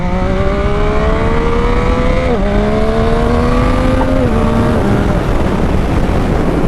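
A motorcycle engine held in first gear revs loudly and continuously nearby, its pitch climbing steadily, dipping briefly as the throttle is let off, then climbing again twice before settling into a dense, sustained roar.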